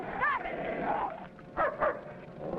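A dog barking and yipping in short bursts, fairly close, a few sharp calls spaced across the moment with faint background noise.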